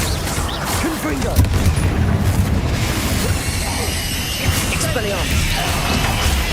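Repeated blasts and crashing bursts from the Confringo spell in the Hogwarts Legacy video game, sustained booming impacts layered over a dense, noisy combat backdrop with occasional chirpy effects.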